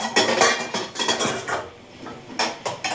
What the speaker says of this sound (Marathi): तर आता घासते एवढे भांडे मी.